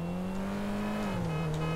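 A small car's engine in GTA 5 drones steadily at a low pitch, with the revs dipping and rising slightly partway through, close and continuous with no talk over it.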